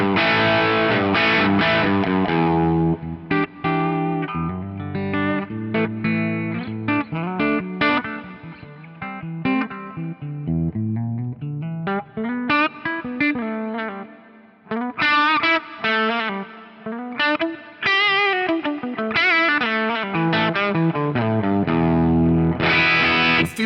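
Electric guitar on the bridge pickup through an edge-of-breakup amp model, bright and lightly crunchy; a loud, sustained passage of chords and melodic runs with dynamic swells and brief quieter dips, no voices.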